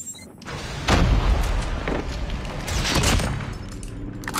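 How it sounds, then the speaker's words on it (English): A grenade blast in a Call of Duty multiplayer match, a loud boom followed by a second rumbling burst and scattered debris, close and heavy, with no voices. "Watch out, grenade!"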